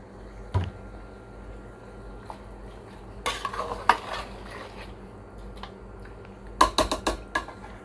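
Tomatoes go into a pot of fried chicken for chicken korma, heard as a few short bursts of spoon clinks and stirring clatter over a quiet kitchen background.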